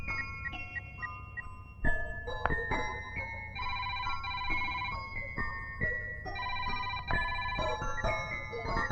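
A telephone ringback tone sounds during an outgoing call, a clear electronic melodic ringing repeating steadily at moderate volume with no talk over it.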